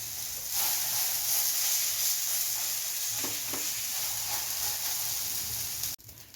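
Methi paratha frying in oil on a pan, giving a steady close sizzle and hiss with a few faint pops, cutting off abruptly near the end.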